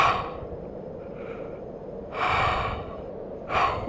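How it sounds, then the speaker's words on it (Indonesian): Someone draws in deep breaths, two loud airy inhales with a softer breathy stretch before them, close up. "Ayo ya, tarik napas."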